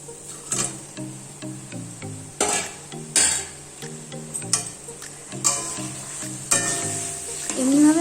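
Paneer cubes frying in oil with a ground spice paste, a loud steady sizzle broken by repeated scraping stirs and clinks of a utensil against the pan, with no talk.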